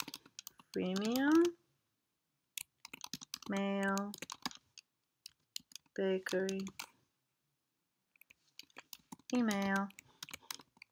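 Light computer keyboard typing clicks patter between short spoken phrases in a quiet room.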